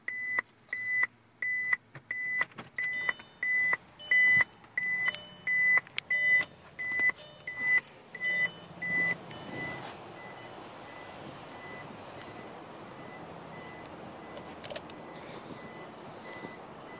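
An infrared parking back-up alert system on a vehicle beeps in a rapid, regular series of loud tones for about nine seconds, then falls silent, leaving a low background hum.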